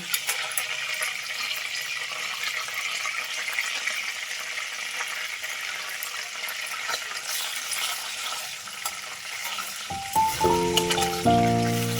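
About a spoonful of whole cumin seeds fries in hot oil for a potato chicken curry, giving a continuous close sizzling hiss. Louder, more tonal sounds come in near the end.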